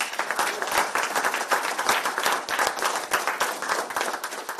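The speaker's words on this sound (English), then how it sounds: "Big round of applause to Vinod" An audience at a business continuity awareness event gives a round of applause, a dense, steady clapping that carries on without any talk.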